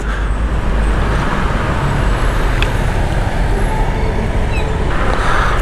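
Mild congested traffic in Baguio streets, cars and buses rumbling steadily up close with a brief hiss like an air brake midway, a continuous loud roadway wash without voices.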